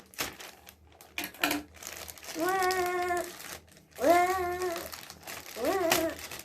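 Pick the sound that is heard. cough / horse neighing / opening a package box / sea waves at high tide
opening a package box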